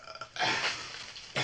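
Two loud, close belches come from a scene in the film A Clockwork Orange, the first drawn out and the second short, with faint noise before them.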